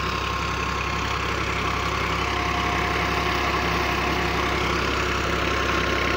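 A tractor idles at a tube well while it powers a newly fitted bore by pulley and belt, a steady, loud, unbroken mechanical drone with a low throbbing rumble and no talk.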